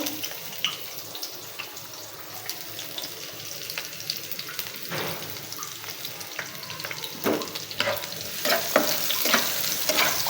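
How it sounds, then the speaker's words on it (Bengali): Onions and green chilies frying in a wok, with a steady soft sizzle and spatula stirring scrapes that grow louder and busier toward the end, no talk. "এর জন্য কড়াই বসিয়ে দিয়েছি এর মধ্যে পেঁয়াজ কাঁচামরিচ এখন দিয়ে দেবো"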